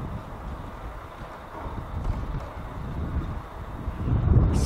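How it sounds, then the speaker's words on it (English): Gusty, cold wind buffets the microphone outdoors at Chiricahua National Monument in Arizona, a low rumbling roar that swells and strengthens toward the end, with no talking. "A little windy. Windy and cold."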